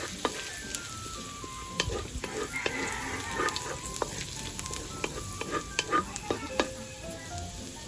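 Ginger sizzles and fries in hot oil in a pan for tilapia with tausi, a steady close crackle broken by frequent clicks and scrapes of stirring, with faint high squeaks along the way.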